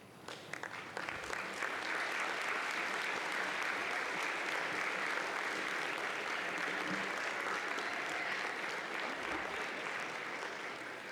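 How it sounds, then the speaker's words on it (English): Sustained applause from a large audience at a university spring commencement ceremony, as graduates stand and clap for the family and friends who came to support them. The dense, steady clapping runs for about eleven seconds without talk. "I'd like to ask the graduates to stand up and offer a round of applause to all the people who are"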